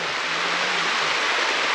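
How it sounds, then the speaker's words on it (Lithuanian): A mountain stream rushes in a steady, even hiss of flowing water, close and continuous, with no voices. "Kalnų upelis."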